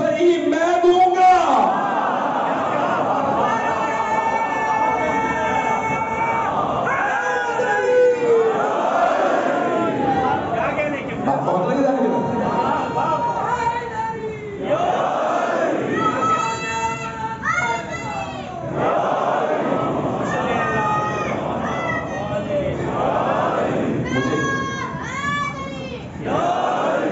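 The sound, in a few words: crowd chanting slogans at a majlis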